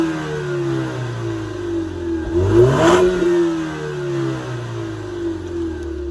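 A 2017 Ford Mustang EcoBoost with its 4-cylinder engine is revved once from idle, rising to a peak around the middle, then settling back to a steady idle, heard fairly close with no talking.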